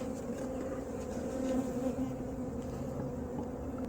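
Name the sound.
honey bees buzzing in a hive box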